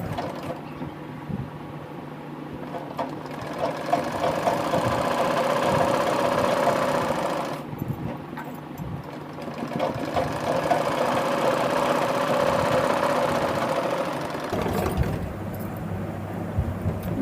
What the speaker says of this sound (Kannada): ಇಲ್ಲಿ ಹೊಲಿಗೆ ಹಾಕ್ಬಿಡೋಣ.